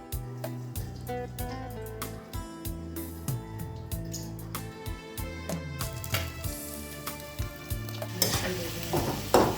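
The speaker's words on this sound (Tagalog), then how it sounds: "nagprito nga din ako dito ng galunggong. Sobrang lakas nga ng tilamsik ng mantika niyan" Galunggong fish fry in hot splattering oil, loud sizzling with irregular crackling pops and spits, rising toward a harsher burst at the end; no talk.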